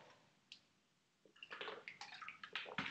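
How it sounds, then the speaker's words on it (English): Someone sips water, followed by quiet gurgling and slurping mouth sounds, close to the microphone and faint, with no talking. "Just taking a sip of water there, if anyone heard some gurgling."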